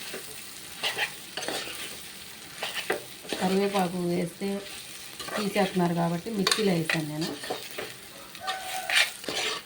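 Bitter gourd pieces fry with chilli powder in a pan for a Telugu-style kakarakaya vepudu, stirred with steady scraping and a soft sizzle, while someone talks over much of it.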